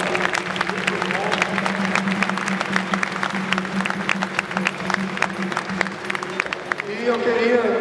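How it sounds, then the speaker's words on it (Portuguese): Audience applause at a martial arts showcase, steady clapping from a crowd filling the room with a low voice or hum beneath, swelling slightly louder near the end. "Uma salva de palmas para o Pinocchio da Platão."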